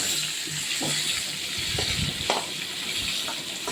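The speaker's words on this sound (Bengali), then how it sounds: "কেটে রাখা ডুমো ডুমো করে আলুগুলো আমি দিয়ে দিচ্ছি আর দিয়ে দিলাম নুন আর হলুদ এবারে এই আলুগুলো আমি একদম লাল করে ভেজে নেব" Diced potatoes seasoned with salt and turmeric fry in oil for a potato curry, giving a steady, close sizzle with a few soft stirring knocks and no talk.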